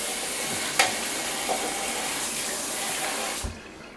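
Tap water runs steadily into a kitchen sink while something is lightly rinsed, a close, even hiss with a few small clatters, cutting off at the end.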